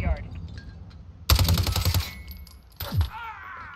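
Rapid automatic gunfire in Call of Duty: Modern Warfare during hardcore team deathmatch on the Piccadilly map, a loud burst of shots lasting under a second, then a shorter second burst, with a player talking over it.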